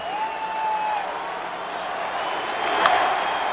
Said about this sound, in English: the crowd calls for a curtain call from Vlad Guerrero